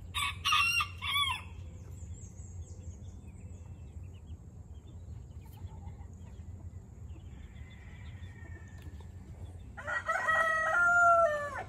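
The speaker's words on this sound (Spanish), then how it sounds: "el gallo ahorita le estaba hablando a la gallina para que fuera a comer a la que anda con los pollitos" A Silkie rooster calls out near a hen and chicks, with loud clucking bursts at the start and end framing a quieter stretch of soft farmyard calls over a steady low background hum.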